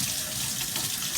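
Tap water pours steadily from a faucet into a bunny's water bottle, a continuous close hiss and splash with no pauses and no voices.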